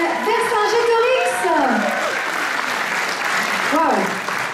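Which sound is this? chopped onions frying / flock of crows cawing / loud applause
loud applause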